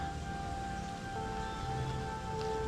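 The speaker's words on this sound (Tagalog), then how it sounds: "nabutan na tayo ng ulan dito mga ka-angler" Steady rain falling outdoors on a fishing trip near Baler, a soft, even patter throughout with a faint background hum and no voices.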